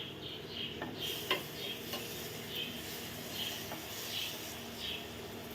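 Dried fish (sigadi karuvadu) frying in a pan, a steady soft sizzle running throughout with faint scattered ticks and clicks, no talking.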